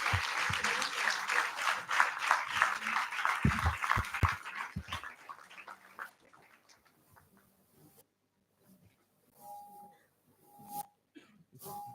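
An auditorium audience at a medical college white coat ceremony claps in a dense, loud burst for about five seconds, then the applause tapers off into scattered faint claps and near silence.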